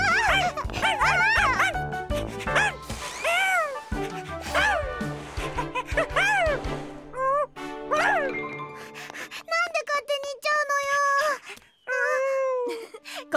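Cartoon dog in a children's safety animation barking, yipping and whimpering close up, in a string of short, high, bouncy yelps that rise and fall, with brief gaps between bursts.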